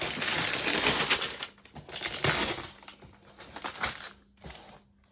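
A wrapped gift package being unpacked: dense crinkling and crumpling of wrapping close by, coming in several bursts with brief quieter gaps between them.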